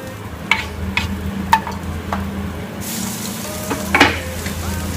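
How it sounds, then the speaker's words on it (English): Onion frying in a little olive oil in a hot pan sizzles steadily and up close, with a few sharp utensil clicks and scrapes, and a louder hiss bursts up partway through. "Cook the onion till it turns into quite brown."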